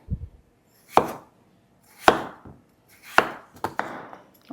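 A knife chops potato on a cutting board with about five sharp, separate strikes spaced roughly a second apart, close and clear against a quiet background.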